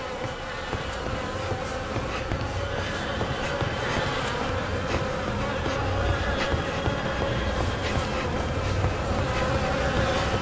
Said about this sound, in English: The air is heavy with the stink of rot and buzzing of those damned insects